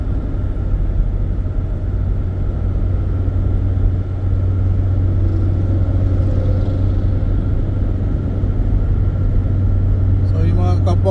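Trucks travelling the CLLEX expressway make a continuous low engine and road rumble, steady and fairly close, with someone talking over it throughout.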